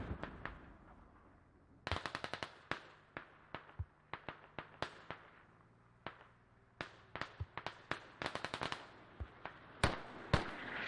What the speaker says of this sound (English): And there's those mortars coming out